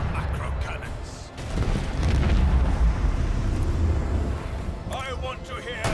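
Deep, rumbling booms from macro cannons in Warhammer 40000: Rogue Trader, a sustained heavy roar of bombardment that sits loud throughout while a voice speaks over it at the start and end.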